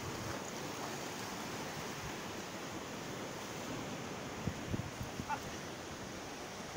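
Sea waves wash steadily onto a rocky beach with sharp rocks, a continuous broadband surf rush with a few small splashes and knocks near the end, no talk.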